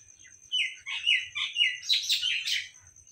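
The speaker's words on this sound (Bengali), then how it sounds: "চারিদিকে পাখির কলরব শুনতে ভীষণ ভালো লাগে," Birds calling all around a rural roadside, a string of bright chirps and trills in quick succession, clear and fairly near over a faint low background rumble, with no voices.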